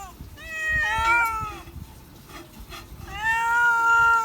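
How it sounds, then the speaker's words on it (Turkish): Several domestic cats meow in clear, drawn-out calls, a cluster of overlapping meows followed after a pause by another long meow, close and loud over faint background rustling. "Zaten miyavlıyorlar."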